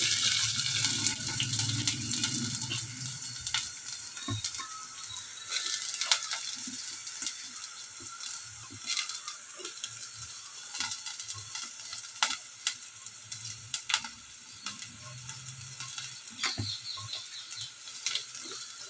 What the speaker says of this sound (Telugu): ఉల్లిపాయలు, పచ్చిమిర్చి వేసానండి. కొంచెం బాగా వేగనివ్వాలి.